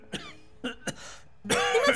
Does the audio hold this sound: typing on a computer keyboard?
no